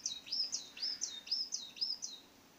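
A tape recorder lure plays songbird calls, likely coal tit calls, set out for catching songbirds: a clear, steady series of about eight high, thin chirps in regular rhythm, moderately loud with nothing else behind them.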